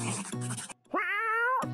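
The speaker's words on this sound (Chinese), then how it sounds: "但小猫来了" A kitten lets out a single clear, rising-and-falling meow, close and distinct, set between bursts of background music.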